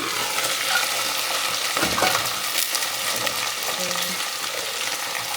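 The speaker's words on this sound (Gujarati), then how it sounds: "તો અમે ધીમે ધીમે ગવાર નાખી દઈએ અને પેક કરી દઈએ" Cluster beans are dropped into a hot mustard seed and cumin tempering and fry with a dense, loud, continuous sizzle, broken by brief stirring scrapes in the pan.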